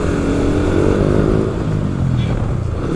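A Yamaha R15 V4 motorcycle fitted with a loud aftermarket exhaust rumbles nearby as it rides. The engine drones steadily with a deep, throbbing tone and no talk over it.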